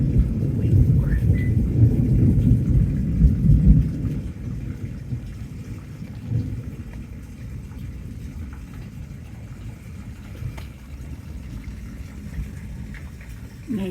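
Thunderstorm outside the front of a house at night, with deep rolling thunder that swells loudly in the first few seconds and then eases into a steady low rumble of rain and wind.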